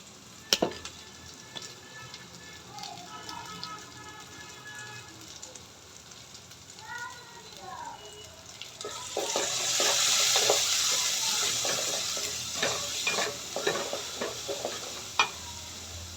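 Spice masala frying in oil for a mutton curry, stirred with a spoon: a steady close sizzle with scraping strokes that swells louder and hissier partway through, with sharp clinks at the start and near the end.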